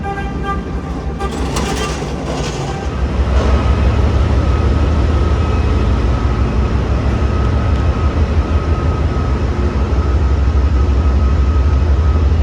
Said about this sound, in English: This is probably the biggest train station I've ever been in.